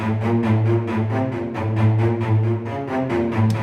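A cello section plays short, bouncing spiccato notes in a fast, steady ostinato pattern, energetic and close.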